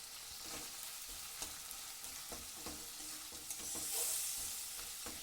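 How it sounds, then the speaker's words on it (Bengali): Spices and tomatoes frying in a pan are stirred steadily, with a continuous close sizzle broken by soft scraping strokes at an uneven pace. "সব দিয়ে এবার ভালো করে একটু নাড়াচাড়া করে নেব"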